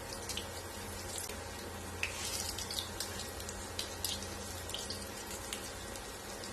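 Fish cutlets frying in a pan make a steady, close sizzling hiss scattered with small pops and crackles that flare briefly now and then, with no talking.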